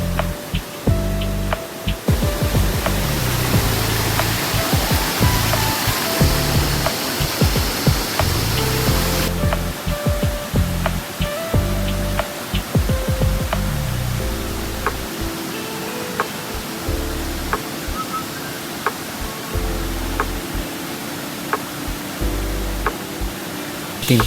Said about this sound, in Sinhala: අපි ලස්සන දිය කැරැල්ල ඇල්ල හොයාගෙන ආවා